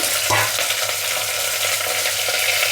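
Loud, continuous sizzling of onions, green chillies, potato, carrot and broad beans frying with curry leaves in oil for millet khichdi, with a brief stir near the start.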